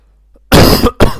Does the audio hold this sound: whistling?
no